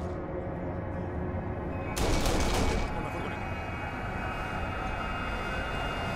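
Gunfire and explosions from the video game Kane and Lynch: Dead Men: a short, loud burst of shots rises above a steady background of rumbling game noise, then fades back into the din.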